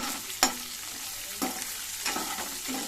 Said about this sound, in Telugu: కొద్దిగా వేయించాలి